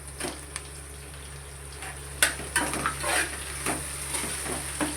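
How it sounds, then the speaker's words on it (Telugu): Onions frying and sizzling in a pan, stirred with a utensil that scrapes and clinks against the metal in irregular bursts over a steady sizzle, close up, with no talking. "ఉల్లిపాయలు లైట్గా ఇలా కలర్ చేంజ్ అయ్యేదాకా కలుపుకోవాలండి"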